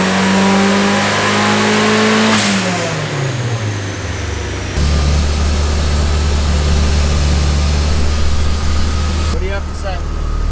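A turbocharged KA24DE engine in a Nissan 240SX roars loudly through a baseline tuning pull, the note shifting and climbing steadily for several seconds before a sudden change near the end, with fan-like whoosh underneath.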